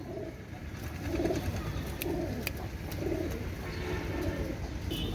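Pigeons in a loft give low, muffled coos at a steady pace over a constant background hum, with a few light clicks and taps.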